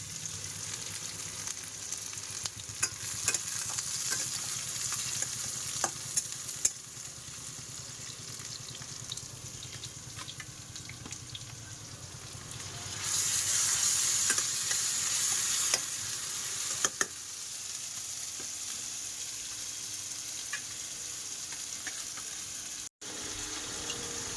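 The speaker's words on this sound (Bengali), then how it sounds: "আলু টালু সব একসাথে কষবো যাতে তাড়াতাড়ি হয়ে যায়" Potatoes sautéing together in a pan, a steady close sizzle running throughout with occasional stirring scrapes, briefly louder and brighter midway before settling back.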